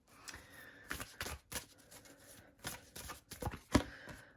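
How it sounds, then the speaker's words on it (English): A deck of oracle cards is shuffled by hand, quiet bursts of papery riffling and soft slaps in an irregular rhythm, close and alone. "I'm going to shuffle them back in."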